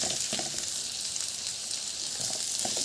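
Chicken pieces frying in butter in a pan, a dense continuous sizzle with occasional soft stirring knocks, close and steady, no talking.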